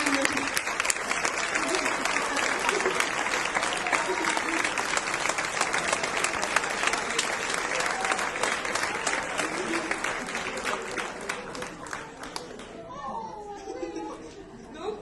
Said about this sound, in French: On donne une très grande main d'applaudissement pour notre maîtresse de cérémonie